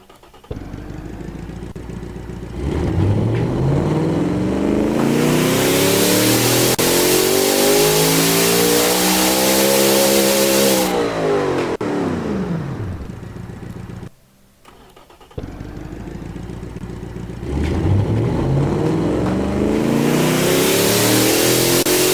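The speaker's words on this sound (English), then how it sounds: "So let's see what this beautiful machine sounds like." Simulated car engine from the game Automation, a 2200-horsepower unit in a 1.4-ton hypercar-style chassis, revving up through two long pulls with a brief gap between, loud and sweeping up in pitch, no talk.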